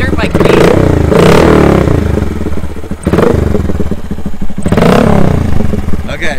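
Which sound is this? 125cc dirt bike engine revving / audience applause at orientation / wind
125cc dirt bike engine revving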